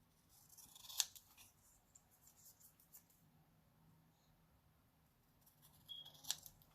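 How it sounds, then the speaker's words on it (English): Two crisp scissor snips through paper, one early and one near the end, separated by soft rustling and near silence. "Paper to scissors, or scissors to paper, is the best sound ever"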